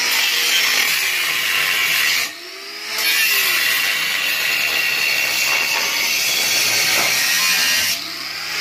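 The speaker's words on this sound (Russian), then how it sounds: "Как хреново пилится" Metal sawing on a Nissan Patrol Y60 exhaust pipe, a steady harsh rasping grind that runs nearly continuously with two brief pauses, close and fairly loud, no talk.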